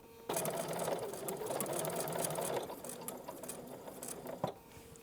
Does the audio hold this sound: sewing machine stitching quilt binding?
yes